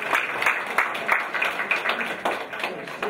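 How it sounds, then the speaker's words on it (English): Audience applause and hand clapping at a company presentation as Diamond Masters come forward, a dense, steady patter of many hands sustained throughout. "Give them a hand clap while they come up as well."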